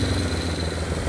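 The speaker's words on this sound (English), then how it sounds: "start the bike" A vintage Honda CB350F four-cylinder motorcycle engine runs in a brief, dense, even low rumble, close and fairly loud.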